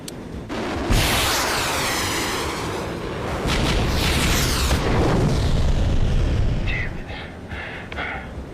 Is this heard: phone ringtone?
no